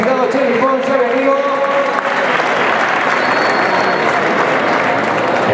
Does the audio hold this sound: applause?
yes